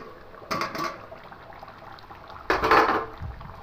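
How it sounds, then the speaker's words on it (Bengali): A metal lid is lifted off a pot of chicken and potato curry with two short clattering scrapes a couple of seconds apart, close by in a quiet kitchen. "এবার ঢাকাটা খুলে নেব"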